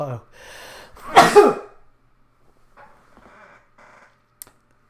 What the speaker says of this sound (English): I don't sneeze often in videos.